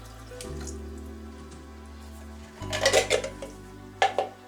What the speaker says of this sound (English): just going to add a cup of water to that as well